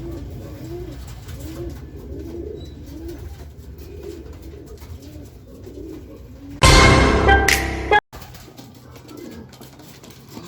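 Racing pigeons coo softly in a steady low murmur through the clip, with a brief loud burst of flapping or rustling near the end.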